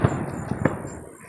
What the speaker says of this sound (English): We got more fireworks coming.